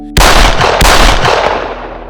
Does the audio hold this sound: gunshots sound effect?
yes